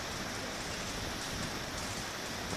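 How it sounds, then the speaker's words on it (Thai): Rain falls steadily on a farm, a soft, even hiss of drops with no pauses and no voices. "แล้วฝนก็ตกอีก"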